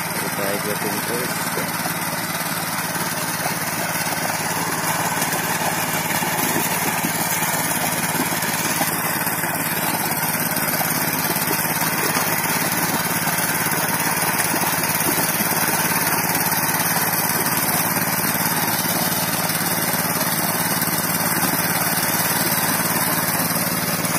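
A super-mini 900cc tractor engine runs steadily throughout, a constant mechanical drone with a high whine, chugging nearby.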